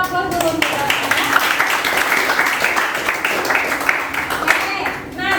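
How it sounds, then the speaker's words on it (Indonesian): A classroom group claps for a student in applause that is dense and fairly loud. It carries on for about five seconds and then tapers off near the end. "Aplaus dulu untuk Galangnya."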